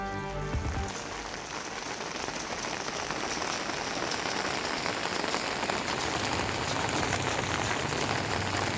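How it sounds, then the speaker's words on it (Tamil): Heavy rain pours down steadily at night in Coimbatore, a dense, loud, continuous hiss of drops hitting surfaces that holds unbroken throughout with no voices. "கோவையில் பல்வேறு பகுதிகளில் இரவில் கொட்டி தீர்த்த கனமழை"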